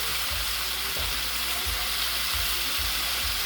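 Steak frying in a hot pan, a loud continuous sizzle with a few dull thumps as the meat is turned over, close and without talk.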